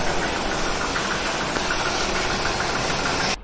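The motor of a bike wash machine runs steadily at a roadside washing setup for a Royal Enfield Meteor 350, a close mechanical hum with a rough vibrating texture that cuts off abruptly at the end.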